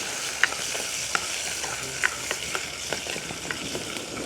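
Green chillies sizzle steadily in oil in a village kitchen pan, a constant close frying hiss with a few faint clicks and taps of stirring scattered across it.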